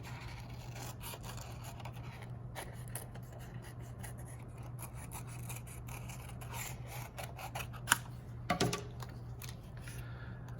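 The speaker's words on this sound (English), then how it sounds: "So go ahead and cut along that line we just drew." Scissors cutting along a drawn line in paper for a Frankenstein collage, quiet rasping snips over a steady low hum, with a couple of sharper clicks near the end.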